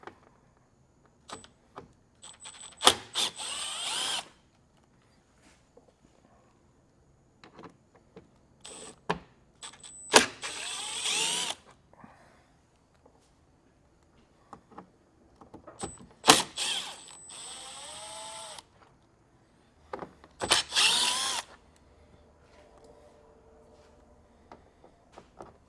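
Power drill with a Torx bit backing out T20 Torx fasteners along the front of a 2021 car, heard as several separate short whirring bursts spread between quiet pauses, close by.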